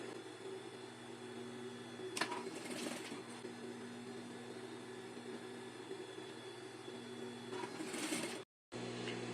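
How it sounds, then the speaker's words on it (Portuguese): A sewing machine runs through fabric near a ruffle seam, giving a steady mechanical whir with a couple of brief louder bursts. The sound stops abruptly for a moment just before the end. "vou costurar ela aqui, ó, na direção dessa costura que eu passei no babado"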